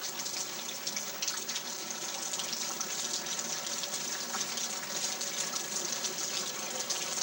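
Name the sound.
water flowing during Hurricane Charley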